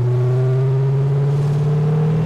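A 650bhp V8 car engine on a drive, a loud close steady drone with strong low harmonics that rise slightly in pitch as it pulls, no talk.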